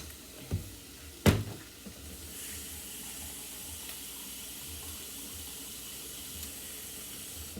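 Tap water running to fill a pot for instant rice, a steady hissing flow at a kitchen sink, preceded by a couple of sharp knocks.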